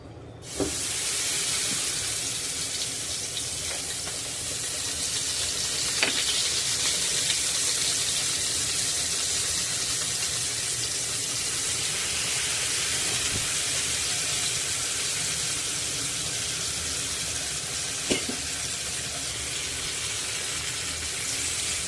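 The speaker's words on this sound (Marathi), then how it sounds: "तव्यातलं तेल चांगलं तापलेलं आहे आता आपण त्यामध्ये मेरिनेट झालेले राणी मासे घालून घेऊया" Marinated pink perch fillets frying in hot oil on a flat pan, giving a steady broad hiss and sizzle that runs throughout, with a few faint clicks and no talking.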